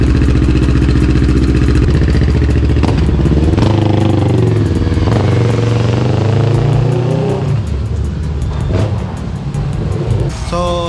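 A Kawasaki Ninja 650 ER6F motorcycle engine on a test ride, loud close revving that rises and falls through throttle blips and gear changes, with some clatter and faint talk.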